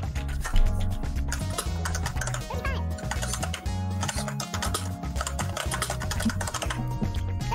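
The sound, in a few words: typing on a computer keyboard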